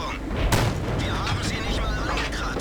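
In a tank video game, a gun round strikes the thinly armoured side of a turret: one sharp, loud impact crack rising above a steady rumble of engine and battle noise, followed by continued low clatter.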